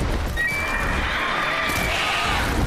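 A horse whinnies loudly in The Witcher 3: Wild Hunt, a long rising and falling neigh heard up close over continuous game background noise.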